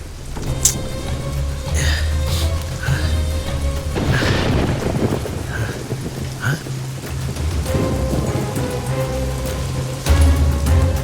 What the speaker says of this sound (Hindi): अचानक ये बारिश क्यों?